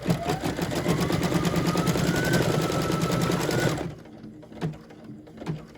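A Brother VE2300 embroidery machine stitches with a rapid, loud mechanical chatter and whir as its sweep arm moves, running steadily for about four seconds, then stopping abruptly with a few faint clicks after.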